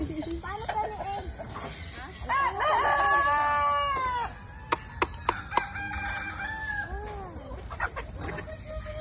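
Chickens cluck and squawk close by, with a rooster crowing and a few sharp knocks, while people talk in the background.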